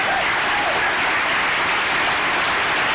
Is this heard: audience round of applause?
yes